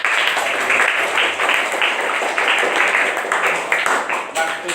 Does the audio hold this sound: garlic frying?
no